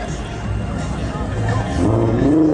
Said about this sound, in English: just one person to rev, and then everyone starts revving.